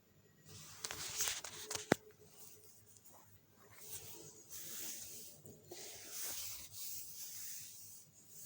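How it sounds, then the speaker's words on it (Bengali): Cauliflower sautéed with spices in a pan, stirred steadily so that soft scraping and rubbing strokes repeat over a faint hiss, quiet and close. "যেহেতু ফুলকপি আমি ভেজে নিইনি সেই জন্য একটু ভালো করে কষিয়ে নিচ্ছি"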